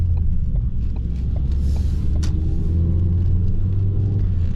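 Steady low cabin road rumble from a 2016 Ford Focus SE Sport rounding a right turn, with engine drone and tyre noise continuous and fairly loud throughout, no voices.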